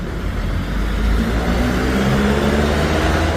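A small farm-use engine running after its cylinder head was replaced, a loud, steady close-up mechanical drone that rises slightly in pitch about a second in and holds evenly, with no talking.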